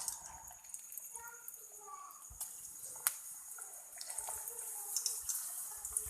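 Potato chips frying in hot oil make a steady, faint sizzling hiss dotted with small crackles and pops that continue throughout.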